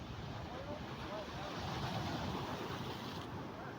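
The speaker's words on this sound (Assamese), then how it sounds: "কেনেকুৱা জোৰজোৰকে ঢৌ আহিছে দেখিছে" Strong ocean waves at Kanyakumari make a continuous roaring wash of surf, mixed with heavy wind buffeting on the microphone, fairly loud and steady throughout.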